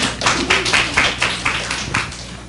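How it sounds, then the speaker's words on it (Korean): A church congregation claps in welcome during a Wednesday worship service as a couple comes forward, a steady run of dense hand claps at close range with no talk over it. "박수로 환영하겠습니다."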